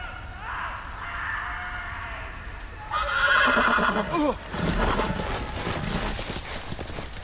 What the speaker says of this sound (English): Crappy horse leaving me on my own.